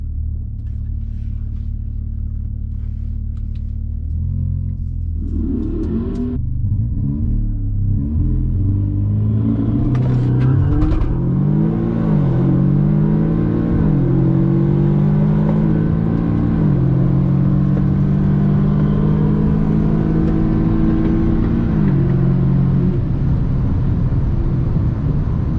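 A Stage 2 Audi S3 engine roars hard under full acceleration down a quarter-mile drag strip, pitch climbing through several gear changes in steady sweeps, loud and sustained throughout.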